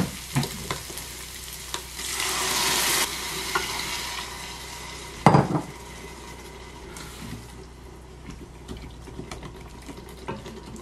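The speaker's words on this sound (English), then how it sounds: "Make sure to scrape off any bits sticking at the bottom" A spoon scraping cooked bits off the bottom of a Ninja Foodi pot holding spaghetti sauce with brown sugar and stock, close scrapes and stirring over a bubbling simmer, with a louder burst of sizzle and a sharp knock midway.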